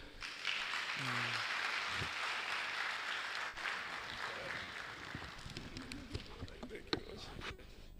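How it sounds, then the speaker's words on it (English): Sustained applause from a crowd fills the room, steady clapping with a few voices and scattered noises mixed in, fading slightly toward the end. "Big round of applause."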